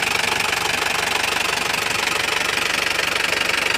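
A 2007 Isuzu Panther LM Smart Turbo diesel engine idles with a rapid, even clattering knock. It is heard close and loud in the engine bay, with no voices.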